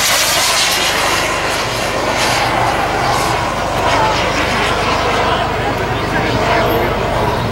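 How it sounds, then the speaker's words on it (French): A propeller aircraft engine drones loud and steady at an air show meeting, a continuous close roar that holds through the whole stretch, with a voice talking over a public address on top of it. "Cet avion a été construit en 2010."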